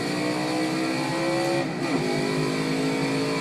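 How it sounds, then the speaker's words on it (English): A race car engine in a video game at Mid-Ohio holds a steady, loud, high-pitched drone, its pitch dipping briefly midway before settling back into a sustained whine. "I got the engine up a little loud because I wanted you guys to hear great sound."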